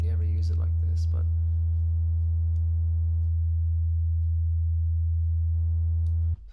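A maxed-out analogue effects unit colours a steady sustained tone, a loud continuous hum with stable harmonics holding for several seconds before cutting off abruptly, preceded by brief chirpy bursts.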